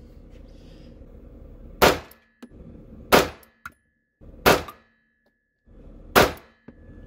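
Gunshots ring out at an outdoor rifle range, four sharp loud reports spaced about a second apart, each with a quick ringing decay and brief quiet between shots.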